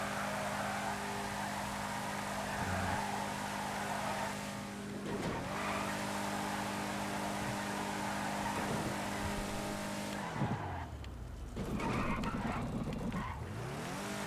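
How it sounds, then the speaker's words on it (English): Comet Retro sports car in GTA 5 drifting through city streets and docks with the handbrake pulled: a steady, loud engine drone with screeching tire squeal and skids that surge near the end. "We ripped the handbrake back there, and it ripped us out of our drift."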